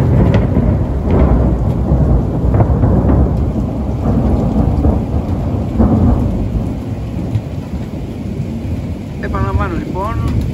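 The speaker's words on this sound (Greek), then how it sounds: "Αστραπές και βροντές, και βεβαίως τα πράγματα εξακολουθούν." Heavy rain pours steadily during a thunderstorm while low thunder rumbles roll beneath it, loud and close throughout, with a voice talking over the storm.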